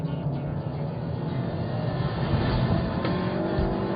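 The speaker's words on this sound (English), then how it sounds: "we're now inside the 2008 Mugen SI, ready for a hot lap for Streets of Willow" Heard from inside the cabin, a 2008 Honda Civic Mugen Si, with a 197-horsepower inline-four, close-ratio six-speed gearbox and sport exhaust, drones steadily and loudly on a hot lap of the Streets of Willow track.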